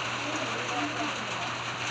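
Heavy rain pours steadily on a surface in a constant, even hiss with no letup, heard moderately close, and a faint low hum runs beneath it.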